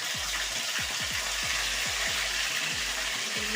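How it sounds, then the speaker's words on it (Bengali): Dried and green chillies sizzling in hot oil for a village-style khichuri, a soft steady frying hiss with repeated small bubbling pops, fairly quiet and close. "আমি কাঁচা লঙ্কা দিয়ে দিচ্ছি তেলের উপরে"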